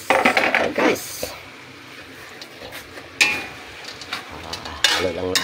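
Fishballs, squid balls and kikiam are stirred in a crowded frying pan, giving scraping clatter and a few sharp metallic knocks in bursts with quieter sizzling between them.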